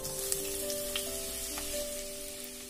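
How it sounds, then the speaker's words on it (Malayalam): Two long-sliced onions sizzling in a few spoonfuls of hot oil in a pan, a soft steady crackle and hiss with light stirring taps, close and fairly quiet, with no talking. "ഓയിൽ ചൂടായ ശേഷം നമുക്കിതിലേക്ക് 2 സവാള നീളത്തിൽ അരിഞ്ഞത് കൂടെ ഒന്ന് ചേർത്ത് കൊടുക്കാം"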